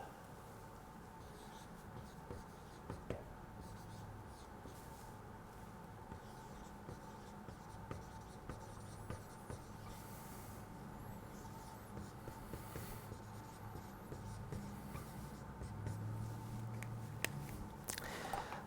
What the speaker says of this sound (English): I write this down on the board.